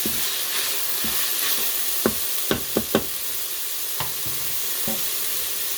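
Black-eyed peas and collard greens get stirred inside a pressure air fryer pot, with a steady sizzling hiss underneath and a few sharp utensil knocks against the pot near the middle.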